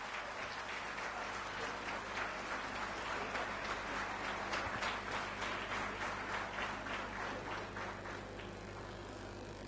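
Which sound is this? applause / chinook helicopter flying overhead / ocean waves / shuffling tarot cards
applause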